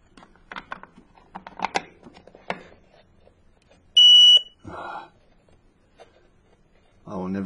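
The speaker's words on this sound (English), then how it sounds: "I can't stand the noise anymore." A homemade laser light gate's buzzer alarm sounds in a loud, harsh burst, preceded by clicking and tapping at a workbench and followed by further buzzy bursts.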